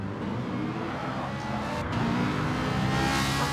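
A GR.3 race car in Gran Turismo Sport on the Nürburgring Nordschleife holds a steady, loud engine drone that swells slightly as the throttle is pressed, continuous and close.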